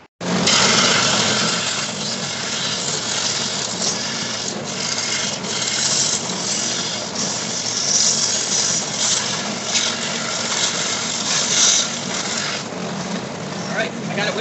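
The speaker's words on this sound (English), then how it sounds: "You do this with a belt sander." A belt sander grinds down a wooden wedge being shaped for a loft ladder, making a steady, loud abrasive whir with a gritty rasp that runs unbroken for the whole stretch, close up and with no talking.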